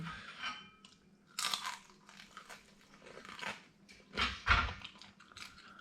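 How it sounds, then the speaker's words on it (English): Close-up biting and chewing of hot, freshly cooked food, with crunchy bites and soft mastication coming in irregular bursts, one louder crunch near the end, and no talking. "Can't wait to take a bite."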